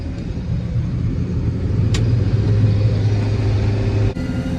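The engine of a plot combine harvester with a 1660 separator and corn head fitted throttles up, a loud, close, steady rumble with a low drone holding throughout.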